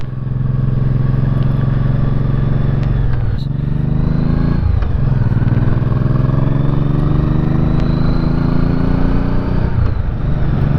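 A Honda Shadow motorcycle rides on the road, its engine a steady, loud low rumble held near and close throughout, with a few brief dips and rises as the throttle eases off and picks back up.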